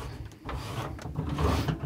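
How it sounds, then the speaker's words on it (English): Cutlery drawer in a 1990 Swift Kontiki motorhome sliding open and shut, with a soft wooden rub and clunk, then a fuller rumbling slide close by. No one speaks. "Cutlery drawer."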